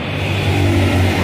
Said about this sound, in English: I'm lucky to share with you such a busy flyover in Dhaka